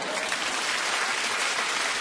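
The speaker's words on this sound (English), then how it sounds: "Keep clapping." A television talk show studio audience claps continuously, a thick, even wall of applause close to the microphone with no pauses or speech.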